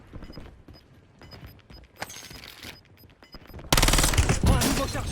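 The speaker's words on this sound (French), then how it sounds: "J'ai reçu des tirs." Gunfire in the battle royale game Warzone: scattered quiet shots and clicks during the first few seconds, then a loud sustained burst of rapid automatic fire erupts near the end and dominates the rest.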